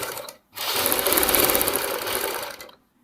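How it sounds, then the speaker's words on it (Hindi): A sewing machine stitches along a folded half-inch fabric edge with piping cord tucked inside, a brief burst, a pause, then a steady close whirring run of about two seconds before stopping. "ये 1/2 इंच हम मोड़ते हुए सिलाई लगाएंगे"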